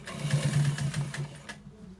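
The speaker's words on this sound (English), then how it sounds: "We are going to be stitching it to the very end" Sewing machine running in steady rapid bursts while stitching a short design down the side of a trouser, a close mechanical whir that stops abruptly near the end.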